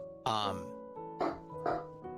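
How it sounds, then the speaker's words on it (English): Several dogs bark and yip in short bursts, three sharp barks spaced about half a second apart, loud and close, with people talking over them. "there goes my dogs."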